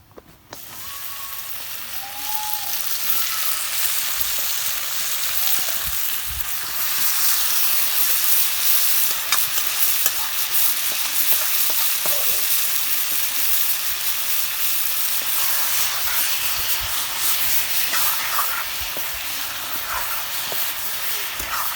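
Chicken feet frying with browned onions in a pan give off a loud, steady sizzle and hiss that carries on without a break, with a few faint clinks near the start.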